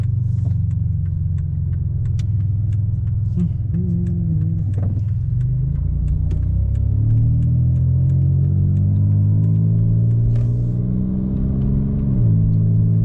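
Chevrolet Impala with 226,000 miles, cruising on the road: a steady, loud low engine and road rumble heard from the car, with the engine note climbing through gear changes and dropping briefly near the end.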